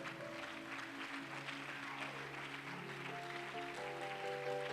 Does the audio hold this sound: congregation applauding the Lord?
yes